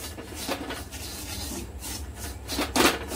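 A spoon scrapes and stirs sabudana roasting in ghee in a pan over a low flame, soft repeated rasping strokes at close range, with no talk.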